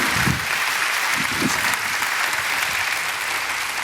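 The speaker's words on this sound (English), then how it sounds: "Can you give them big applause as they come out?" A church audience welcomes a married couple onto the stage with loud, sustained applause, a thick even roar of many hands clapping with a few faint voices mixed in near the start.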